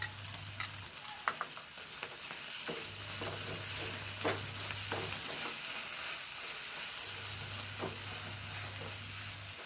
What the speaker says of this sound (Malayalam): ഞാൻ കുറച്ച് നാളികേരപ്പാൽ ഒഴിച്ചു കൊടുക്കും. ലേശം കട്ടിയുള്ള പാൽ ഒഴിച്ചു കൊടുക്കണ്ടേ.